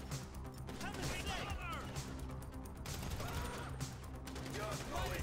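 Gunfire and a grenade blast in a video game shootout against Merryweather, rapid shots and bursts rattling continuously through a dense, noisy mix with distant shouting voices.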